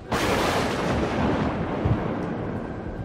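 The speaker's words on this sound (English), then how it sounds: "There were claps of thunder and flashes of lightning." A sudden loud thunderclap cracks open, then rolls and rumbles on for a few seconds as a storybook storm sound effect, fading slightly, with no voice over it.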